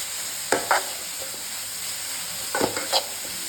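Vegetables with grated coconut and two eggs sautéed in a pan, a steady soft sizzle broken by a few brisk scraping stirs of a spatula, close and alone with no talk.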